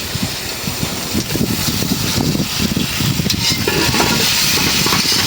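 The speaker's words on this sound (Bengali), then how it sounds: "মশলাটা কষানো হচ্ছে, দিয়ে দিই পেঁপে।" Spice paste fries in a pan for a fish curry as papaya is tipped in, giving a steady, loud sizzle with stirring scrapes and bubbling crackle throughout.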